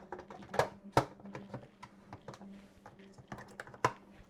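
Buttons being pressed on the control panel of an electric pressure canner: a few sharp plastic clicks and taps spaced irregularly, close and fairly quiet, with no talking.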